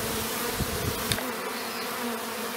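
A swarm of bees buzzes around a colony on a house roof corner, a continuous close drone with occasional louder passes of single insects.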